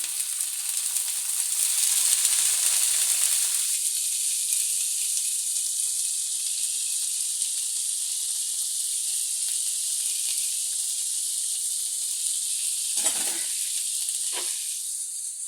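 Paneer pieces, soaked in water, sizzle and hiss loudly on a hot tawa for dhaba-style paneer masala, a steady bright frying crackle throughout with a couple of brief stirring scrapes near the end.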